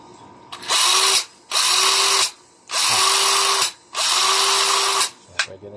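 A Black & Decker LBXR12 cordless drill runs after a motor replacement, whirring loud and close in four separate bursts of about a second each with short pauses between, then a brief click at the end.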